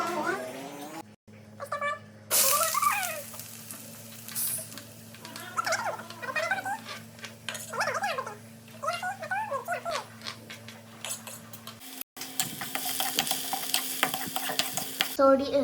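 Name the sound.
mustard seeds and onion frying in oil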